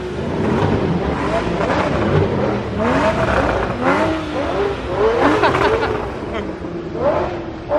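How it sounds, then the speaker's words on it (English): Several sports cars, a McLaren 600LT among them, rev together at a canyon pullout on Angeles Crest Highway, with loud overlapping engine roars and rising, falling revs and bursts across the whole stretch, and voices mixed in. "Cars revving at once. This is epic."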